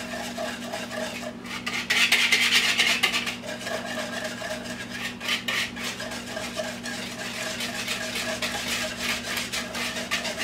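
Hand whisk mixing chocolate chess pie filling in a bowl, a steady scraping and clinking of wire against the bowl with a brief louder flurry near the start, close and moderately quiet.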